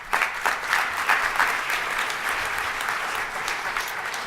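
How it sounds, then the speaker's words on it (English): An audience at a business summit with the mayor applauds steadily for several seconds, a dense, even patter of many hands clapping at moderate loudness with no talk over it. "Can we give Bob a big, big round of applause?"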